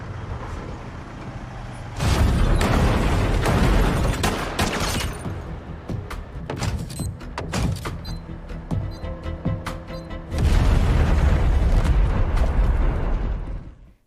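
A car carrying a power generator blows up in a drama scene, with heavy booming blasts, sustained roaring fire and crackling debris, followed by a second loud surge of explosion noise near the end.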